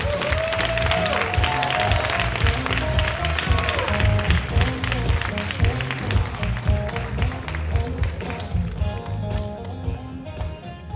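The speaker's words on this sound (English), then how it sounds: "To all of our honorees, let's give a big rousing round of applause." A banquet crowd gives a big rousing round of applause for volunteer award honorees: steady, dense clapping that fills the room and continues throughout, with faint voices and cheering mixed in.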